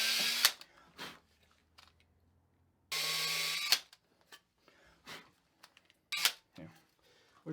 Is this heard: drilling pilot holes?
yes